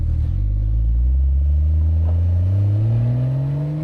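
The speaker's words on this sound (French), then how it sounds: "Alors tout de suite on démarre, c'est bien plus présent." Porsche 992 GTS with a straight pipe in place of the sport exhaust fires up, then settles into a loud, deep, steady idle drone that climbs slightly in pitch, close and with no talk.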